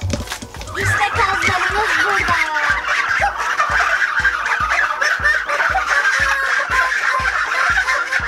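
Geese honk and gobble continuously inside a village coop, a loud, dense flock chorus of overlapping calls with rhythmic background thumps.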